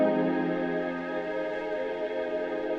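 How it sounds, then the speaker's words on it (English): A Game Boy Color powering on gives a bright electronic startup chime whose layered tones ring steadily for a few seconds, clear and alone with no talking. "That is the sound of a Game Boy Color turning on."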